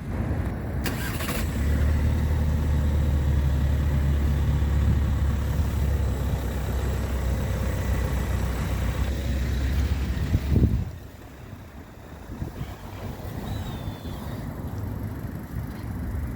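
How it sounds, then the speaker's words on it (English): A Skoda Octavia vRS mk4 engine runs with a steady low rumble close by, which drops to a quieter idle near the end, heard alone with some wind. "I'll show you this car being driven. You'll get to hear the engine"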